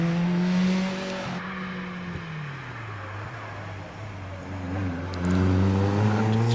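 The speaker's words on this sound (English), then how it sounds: "Through Pardon goes that Caterham Super Sport of Dominic Morland" A Caterham Super Sport race car on the Prescott hill climb course, its engine note rising and falling through gear changes as it accelerates, heard from a moderate distance with no voices.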